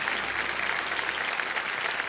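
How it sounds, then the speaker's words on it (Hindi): Steady applause from a TV quiz show studio audience, a dense wash of clapping hands filling the whole moment without pause. "तारीफ के लिए आप ताली बजा सकते हैं।"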